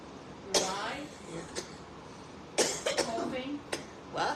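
A person coughs several times indoors, with sharp bursts near the start and a cluster of quick coughs later, separated by quiet gaps.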